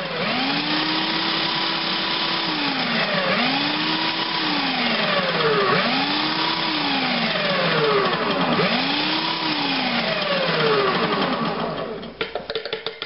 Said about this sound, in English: in my food processor, I'm just going to throw the whole can of artichokes in there and go ahead and pulse it a few times